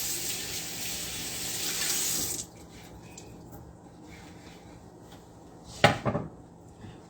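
Tap water runs loudly into a sink while eggplant is rinsed, a steady rush that cuts off abruptly, followed by quiet and a brief clatter of handling.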